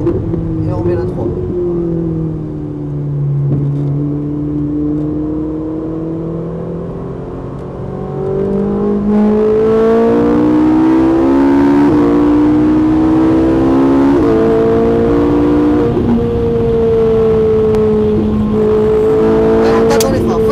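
A Ferrari 458 engine pulls hard on a race circuit, its tone climbing through the revs, then settling into a higher gear and rising again, loud and close from inside the car, with a person talking over it.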